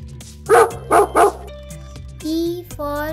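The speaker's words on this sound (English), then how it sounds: "D for dog." A cartoon-style dog gives three quick, loud barks in a children's phonics song, followed by short whimpering yips over a simple musical backing.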